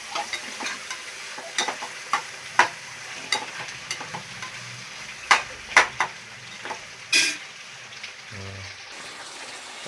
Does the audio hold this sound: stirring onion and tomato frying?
yes